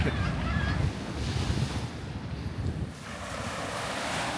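Ocean waves wash onto a sandy Catalina Island beach in California, a steady soft surf roar mixed with wind buffeting the microphone.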